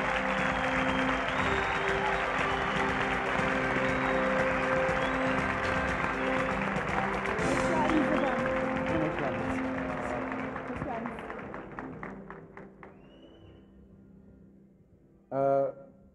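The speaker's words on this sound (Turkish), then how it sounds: "Koray'ı alkışlarınıza davet ediyoruz." An audience at the 1998 Kral music awards ceremony applauds loudly and steadily, then the clapping thins out and fades before a brief louder burst near the end.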